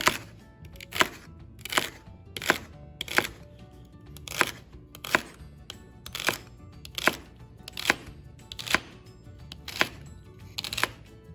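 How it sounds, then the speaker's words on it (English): Vegetables are chopped with a rocking knife motion, giving evenly spaced crisp knocks of the blade on the cutting board, about one each second, close and steady, with no talking. "we're just rocking the knife and cutting away from ourselves"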